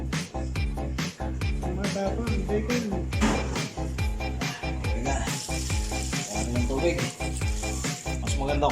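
Lapu-lapu fish steaming in a pan with lemongrass, onion, garlic and 7-Up gives a steady, close sizzle and bubbling that runs under continuous talking throughout.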